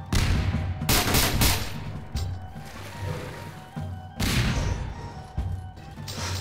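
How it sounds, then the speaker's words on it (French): Grenades blasting in a Garry's Mod DarkRP firefight: several loud, crashing bursts at irregular intervals, mixed with gunfire-like cracks, dense and close, with no clear talk over them. "Il balance des grenades, Dietrich!"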